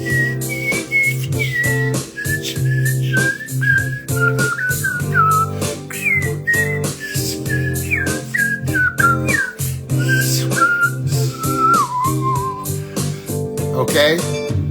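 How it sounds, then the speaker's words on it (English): A person whistles the ABC song in a steady, continuous melody of short gliding notes, loud and close over a constant low background hum. "We can whistle the fucking ABCs with the whip."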